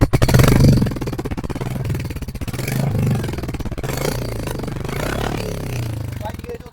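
Royal Enfield Hunter 350 single-cylinder motorcycle idling with a steady, loud low thump close by, pulsing evenly throughout, with a voice talking over it.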